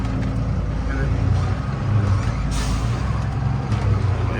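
Trucks pass along a potholed road near a toll, with a continuous heavy engine rumble and a brief hiss of an air brake, close and loud, while people talk over it.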